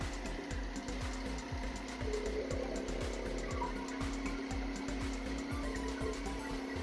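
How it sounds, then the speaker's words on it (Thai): A Triumph Street Triple 675 cc motorcycle engine idling with a steady low rumble and a rapid regular pulse throughout, close and constant, no talking. "ในสตาร์ทจะดังประมาณนี้ครับไทอัมเป็นเอกลักษณ์อยู่แล้วครับ"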